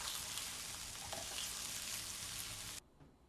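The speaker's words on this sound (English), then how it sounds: "So continuing to fry up my onions and stirring my sauce" Onions fry in a pan with a steady, dense sizzle that continues unbroken and close, then cuts off abruptly near the end, leaving near silence.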